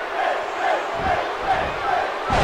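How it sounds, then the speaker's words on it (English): A wrestling arena crowd roaring and cheering wildly during a live match, a thick, sustained wall of shouting that surges in waves and swells again at the end. "And this crowd is going insane for Finn Balor"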